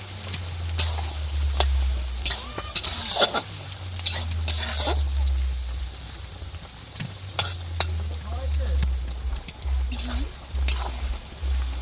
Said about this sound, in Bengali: পেঁয়াজটা একটু নাড়াচাড়া করবো যাতে তাড়াতাড়ি যায়